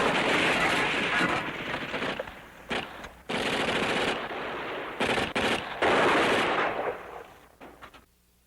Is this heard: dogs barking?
no